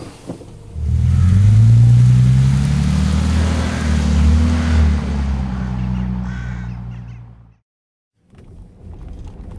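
A Bentley Continental GT pulls away and accelerates. Its deep engine note rises loud and close, then fades before a short drop to silence and a return of quiet background noise.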